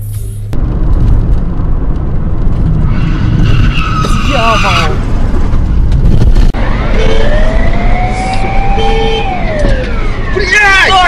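A car brakes hard and its tires skid with loud, wavering squeals on the road, rising and falling over several seconds amid engine noise, while excited voices shout nearby.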